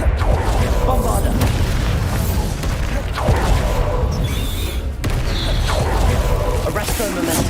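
Bombarda explosion spell cast in Hogwarts Legacy, loud booming blasts recurring roughly every two seconds amid dense combat noise, with a voice shouting over them.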